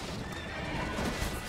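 Horses in Red Dead Redemption let out a sharp whinny over clip-clopping hooves and steady outdoor ambience, brief and fairly close.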